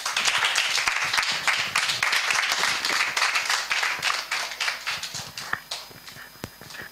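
Church congregation applauding and cheering during a service, dense loud clapping from a crowd that fills the space and then thins toward the end into scattered individual claps.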